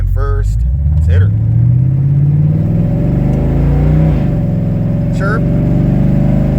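Pickup truck with a 700R4 automatic transmission and new shift kit, accelerating hard from a stop, engine revving up with a loud rising drone and firm gear shifts, heard close under an excited voice.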